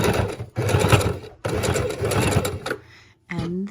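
A sewing machine runs a straight stitch across a pocket on a junk journal page in short, close bursts of rapid mechanical clatter separated by brief pauses.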